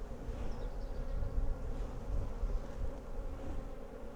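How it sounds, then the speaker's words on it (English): Honey bees swarm around a busy hive in flower season, giving a steady, dense buzzing hum close by that holds without a break, and no voices can be heard. "That's very busy with bees."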